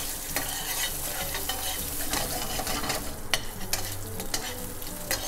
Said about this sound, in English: You'll begin to smell the pistachios start to roast.